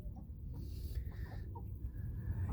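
A hen clucks softly in a nesting spot while laying an egg, low repeated clucks under a steady rumbling background with no talk.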